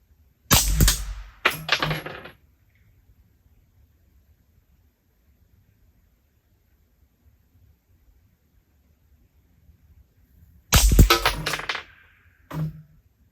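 Suppressed subsonic shots from NOE HTC-356-135 RF rounds during ballistic testing, heard as two sharp muffled cracks near the start and two more about nine seconds later, with near-silence between them.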